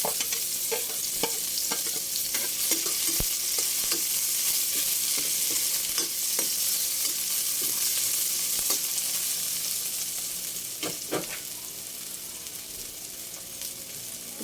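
Ginger and onion sauté in a hot pan with a steady, close sizzle, broken by scattered spatula taps and scrapes; the hiss eases slightly toward the end.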